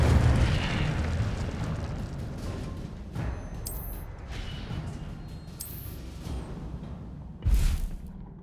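Fire spells cast during combat in the video game Hogwarts Legacy, heard as a string of whooshing fiery bursts and booms over a rumbling background, with a sharp, loud blast near the end.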